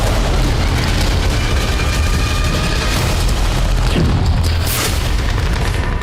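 Heavy shelling in a dense forest near Siversk, Donetsk, during the Russia-Ukraine war: a continuous loud rumbling roar of booms and blasts, deep and sustained without pause.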